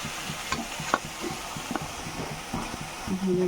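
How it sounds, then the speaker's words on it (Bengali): Potatoes sizzling and being stirred in spices in a pan, with scraping and light knocks of a spatula throughout. "এবার আমি আলুগুলো দিয়ে এর মধ্যে ভালো করে কষিয়ে নেব"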